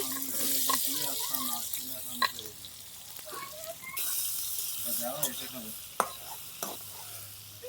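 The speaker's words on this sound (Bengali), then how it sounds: "এতে পেঁয়াজ কিন্তু খুব তাড়াতাড়ি ভাজা হয়ে যাবে" A steady sizzle of onions frying in a pan with occasional stirring clatter and scrapes, close up, with no voices present.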